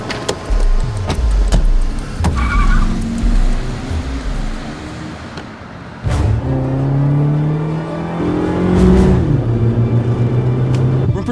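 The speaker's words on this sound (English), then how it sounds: "We're in pursuit of a Dodge Neon silver license plate number 37." A silver Dodge Neon car drives and accelerates during a pursuit, its engine rising in pitch with steady revving, then surging again louder and closer after a brief thump midway, heard alone without talk.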